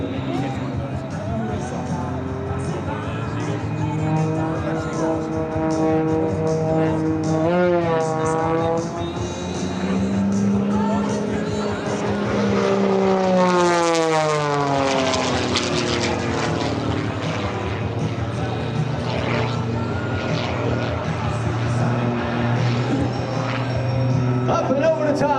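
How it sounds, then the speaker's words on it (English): Extra 330 aerobatic airplane performing at the 2025 Wings Over South Texas air show, flown through loops and a knife-edge spin; its loud propeller engine drones steadily, with pitch sweeping up and down as it climbs and dives. "watch this aircraft. Seems like it goes into a knife-edge spin on the way down."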